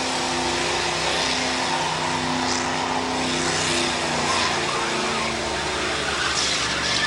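A truck engine runs loud and steady at a night demolition derby at a speedway, a continuous low rumble with crowd-like noise, no clear shut-off evident.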